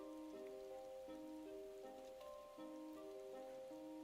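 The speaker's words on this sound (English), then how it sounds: "It's very rainy." Rain in Final Fantasy XIV falls as a steady, even hiss at a quiet level, with bright looping game music playing over it throughout.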